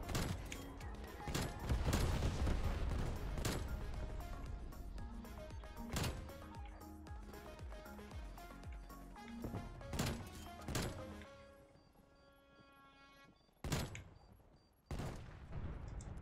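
Heavy hand cannon gunfire in Call of Duty: Cold War booms in rapid, repeated shots, easing briefly before a few final sharp blasts.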